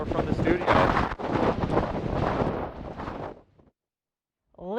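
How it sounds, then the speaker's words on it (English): Strong wind blowing hard across a snowy outdoor scene, heavy gusty buffeting against the microphone for about three seconds, then a sudden drop to silence before a fresh gust starts at the end. "We've got the wind blowing pretty hard"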